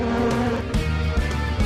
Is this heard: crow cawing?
no